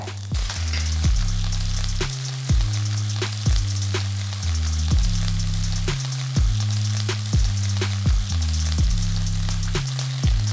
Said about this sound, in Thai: เราจะทำแบบว่ากริลด้วยแล้วก็ เบสติ้งมันด้วยเนาะ เราก็เลยใช้เนย เยอะๆไปเลย